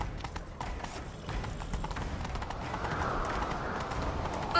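A horse gallops with a rapid drumming of hooves, close and continuous, under a rushing noise that builds toward the end, in the video game The Witcher 3: Wild Hunt.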